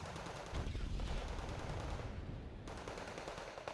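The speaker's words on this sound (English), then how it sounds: "We've got Yokron-Dane of EDV-90 having a long-range machine gun fight." Long-range machine gun fire in the Wargame Red Dragon strategy game, rapid overlapping bursts of automatic gunfire rattling steadily, briefly thinning near the middle before resuming at full intensity, with faint talk mixed in.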